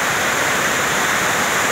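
Water pours steadily into the Cañaveralejo river, a constant loud rushing hiss like a small waterfall, with no one speaking.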